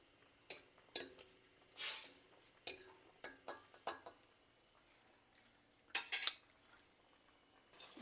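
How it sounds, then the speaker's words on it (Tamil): Spoon or ladle clinking against a pot while mango gravy is mixed, giving scattered short metallic taps and scrapes over about eight seconds, fairly quiet, with no talking. "இப்போ இதை ரெண்டையும் நல்லா மிக்ஸ் பண்ணுவோம்"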